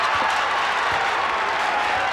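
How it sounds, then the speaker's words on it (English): Indiana crowd at a 1996 college basketball game against Illinois, a dense, continuous roar of cheering and applause filling the arena with no breaks. "Indiana crowd trying to pick their team up"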